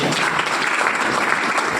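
An audience claps loudly and densely at a business plan seminar, a short continuous burst of applause with no pauses.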